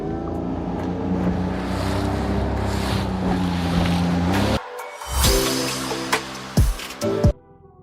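A Maxima 550 boat driven by a Honda 40 hp outboard drones loudly and steadily at sea. After an abrupt cut, wind rush and water splashes follow, with a few heavy thumps.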